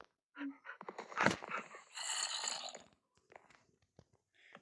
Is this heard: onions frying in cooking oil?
no